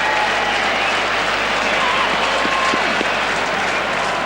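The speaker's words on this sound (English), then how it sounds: "the crowd are getting behind Haka" A football crowd at a 2001-02 Champions League qualifier between Haka and Liverpool keeps up a steady, broad roar of cheering and applause, with a commentator's voice running over it throughout.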